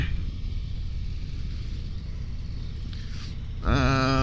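A 2023 Harley-Davidson CVO Street Glide 121 cruises with a steady low rumble and wind roar, then a louder engine note rises sharply near the end.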